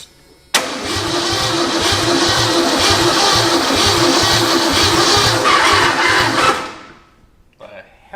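An old Ford with a swapped-in V8 engine fires up abruptly and runs loud, with a rough, pulsing idle that continues for several seconds before cutting off, followed by faint clicks.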